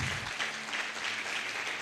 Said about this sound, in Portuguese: Aplauda ao Senhor com alegria.